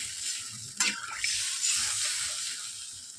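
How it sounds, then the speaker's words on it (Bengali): Water is poured into a cooking pot holding taro roots and potatoes for a tilapia fish curry, a rushing splashing pour with a sharp initial splash, continuing as a steady hiss close by. "জল দিয়ে দেবো হ্যাঁ পরিমাণ মতন দিয়ে দিলাম"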